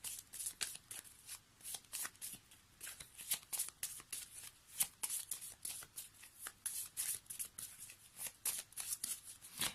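Angel oracle cards shuffled by hand, a quick run of crisp riffling and flicking bursts repeating steadily throughout, close and fairly quiet, with no speech.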